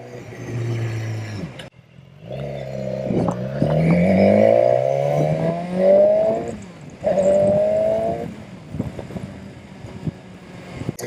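A BMW GS adventure motorcycle engine rises and falls through several revving pulls while riding, its rising whine sweeping upward in stages, loud and close with wind buffeting the microphone.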